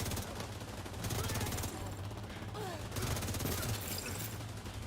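Video game gunfire, with dense fast bursts of automatic shots and rapid volleys layered over one another, loud and continuous across the whole stretch.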